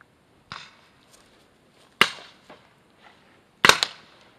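Three sharp paintball gun shots crack out at spaced intervals during an outdoor paintball game, each fairly close and loud with a short decay, plus faint softer pops between.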